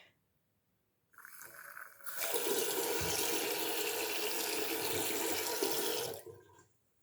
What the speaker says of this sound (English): I've cleaned the bathroom and the sink works fantastic